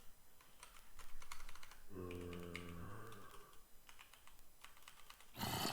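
Rapid keystrokes clatter on a computer keyboard in bursts, with a brief tonal hum partway through and a louder rustle at the end.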